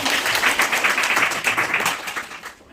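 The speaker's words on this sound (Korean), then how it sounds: "박수 한번 부탁드리겠습니다" A room full of people at an investment seminar applauds, dense steady clapping that tapers off near the end.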